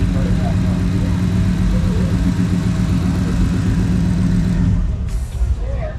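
A 5-liter Ford Coyote V8 in a car idles loudly and steadily at a car show, a deep even rumble that drops off slightly near the end.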